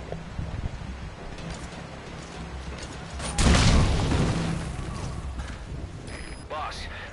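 A single sudden gunshot-like burst in a video game, loud and close, standing out from steady game background noise while a voice talks.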